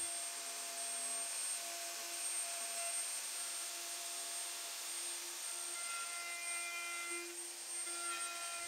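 Router cutting a large patch cutout in salvaged wood for a dining table, a steady high-pitched whining roar with dense hiss, continuous and close, with slight shifts in pitch as the bit moves through the wood.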